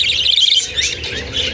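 Parakeets chirp in quick, bright bursts and twittering tweets, close and fairly loud, with a faint background hum and no talking.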